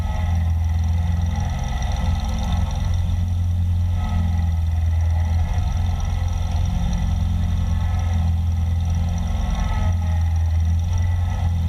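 A tractor engine runs steadily and loudly for the whole stretch while pushing a heavy-duty GrassFlap against a log in dirt, with a deep, constant rumble and slight surges in effort but no voices.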